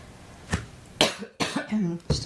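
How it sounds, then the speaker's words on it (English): A single cough from a woman leading a live hatha yoga class, sharp and close, with a couple of brief vocal bursts around it and no other talk. "Sorry, I had to cough."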